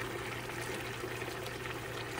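Water poured into a cooking pot on a home stove, a steady continuous splashing stream heard up close and alone, with no talking.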